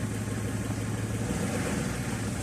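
BMW E36 engine running steadily while the car drives in reverse after a clutch replacement, a low, even hum with a slight drop in tone midway, close and continuous with no speech.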